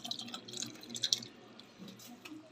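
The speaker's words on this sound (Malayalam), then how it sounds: "അപ്പോൾ കഴിച്ച് നമ്മളിതാ ഈ കൈപ്പാത്രത്തിലാക്കി നമ്മൾ ഒഴിക്കുകയാണ്" Watermelon muhabbat sarbath poured into a glass, a soft liquid trickle with light dripping and splashing, faint and close, with no talk.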